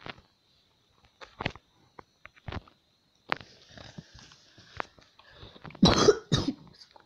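Someone with a cold coughs repeatedly in a quiet room, short isolated coughs spaced apart, then a louder, harsher burst of coughing at the end.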